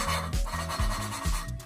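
Gritty, rasping back-and-forth grinding of a valve being lapped into its seat on a Toyota 4AGE 16-valve engine, repeating in steady strokes about every half second, close and continuous.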